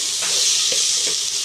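Egg gravy masala is stirred in a hot pan, a steady sizzling hiss with a few soft scraping strokes of the spoon, close and continuous.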